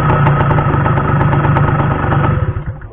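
A 1975 Peugeot SX5 moped engine idles steadily up close, a loud continuous buzzing putter with a fast even rhythm that wavers slightly near the end.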